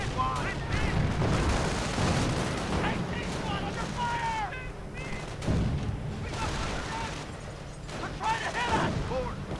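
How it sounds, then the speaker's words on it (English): Mortar fire and gunfire crackle through a video game battle, with repeated booms and rattling shots over a busy, dense mix while a commentator talks throughout. "Simply too much mortar fire."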